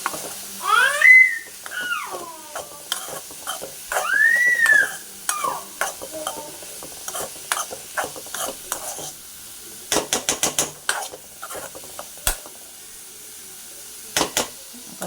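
Vegetables stirred and fried in a pan, with sharp spoon clinks and scrapes against the metal over a light sizzle, some in quick bursts and some long, sweeping scrapes, all close by.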